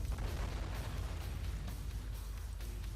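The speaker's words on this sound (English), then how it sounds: "Look at them explosions and the sound of the explosion." Explosions and artillery-like blasts in the WWII strategy game Sudden Strike 3, a dense continuous rumble of booms and bursts layered over one another at steady loudness throughout.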